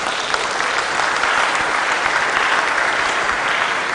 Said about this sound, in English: round of applause for Joy as she steps forward